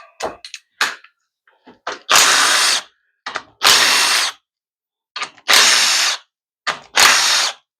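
A power ratchet spins 10mm bolts out of a 6L80E transmission pan in loud, close bursts of about a second each, with short clicks and metallic taps between them.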